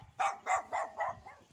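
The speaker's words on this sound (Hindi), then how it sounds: "देखो भाई कुत्ता, देख हम लोग को भूख रहा है भाई" A dog on a rooftop gives four quick, evenly spaced barks, moderately distant and fairly quiet, with nobody speaking.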